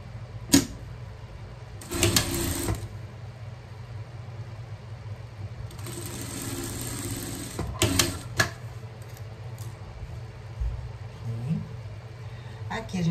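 A sewing machine stitches a hem on a front lining in short bursts of rapid whirring, separated by pauses while someone talks over and between the runs.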